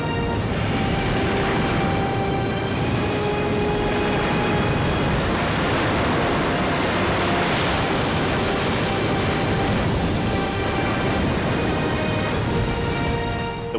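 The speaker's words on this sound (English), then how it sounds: "The waves, you know, they do something special here because the canyon causes the waves to come down the canyon really fast" Huge ocean waves at a canyon surf break roar in a dense, continuous loud wash of crashing water and spray, steady and unbroken for the whole stretch, with no voices.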